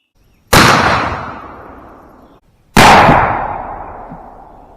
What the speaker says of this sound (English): let's shoot a 3-shot group out of this Winchester with its factory full choke